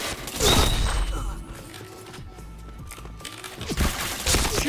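Rapid gunfire bursts from a shooting video game, loud and punchy, with a heavy volley early on, a quieter stretch in the middle and another burst of shots near the end.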